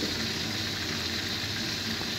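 Chicken leg pieces rubbed with salt and lemon fry lightly in hot oil for a roast, giving a steady, dense sizzle and crackle that stays even and close throughout, with no voices.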